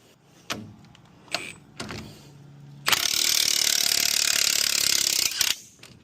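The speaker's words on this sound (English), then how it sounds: "Now I'm going to tighten that down." Ford F150 lower ball joint work: a ratchet clicks in a few short bursts, then spins in one long, loud, continuous whirring run close by before stopping.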